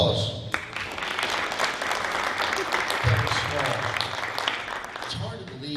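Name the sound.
round of applause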